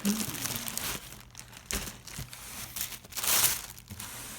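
Plastic wrapping around a pair of Thursday leather boots crinkles and rustles in irregular bursts at close range during unboxing.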